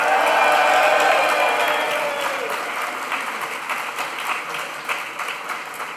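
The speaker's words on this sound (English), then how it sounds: "let's all give a big cheer for the graduating class of 2025." A graduation ceremony audience bursts into loud applause and cheering for the class of 2025, a dense roar of clapping that peaks at the start and then slowly thins, with some voices mixed in.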